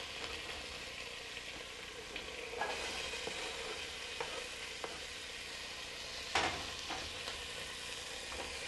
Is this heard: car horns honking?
no